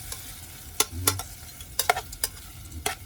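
Camper chili gets stirred in a pot, a few sharp scrapes and clinks of a spoon against metal over a faint simmering sizzle, close by and without speech.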